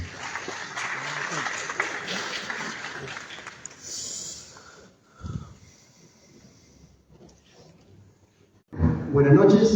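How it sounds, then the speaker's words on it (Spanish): Audience applause at an evening business event: a crowded patter of clapping runs for the first few seconds and fades out, followed by quieter moments and then a person speaking. "Un fuerte aplauso,"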